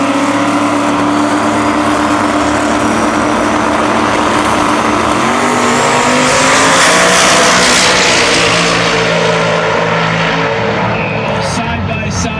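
Two drag race cars launch side by side in a heads-up 1/8 mile race, a loud, continuous engine roar climbing in pitch as they accelerate away, with an announcer's voice mixed in.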